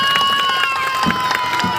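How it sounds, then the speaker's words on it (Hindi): Crowd clapping and cheering at a chowk inauguration ceremony with a minister in Mau, Uttar Pradesh, a dense loud burst of applause with a sustained tonal hum running beneath. "तालियां"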